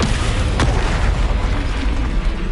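Confringo and Bombarda spells blast in the Hogwarts Legacy video game as a loud, dense roar of explosive rumbling that fills the short stretch, with a brief sharp crack early on.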